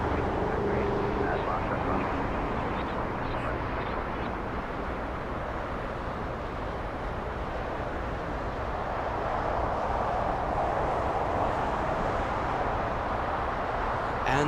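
A Hawaiian Airlines airliner, flight Hawaiian 3, departs Los Angeles International Airport for Honolulu, its jet engines giving a steady, broad roar from a distance that holds level for the whole stretch, with outdoor wind noise and people talking underneath.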